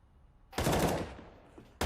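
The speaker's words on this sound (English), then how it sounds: "Nice shot, Doto, and he finds the second." Rapid gunfire in a professional Counter-Strike: Global Offensive match, a loud burst of several quick shots followed by a single sharp shot at the end, with no talking.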